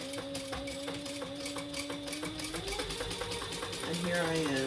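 A sewing machine stitches a crossbody bag, its fast steady rhythmic whir running close and continuous, with a slight change in speed toward the end.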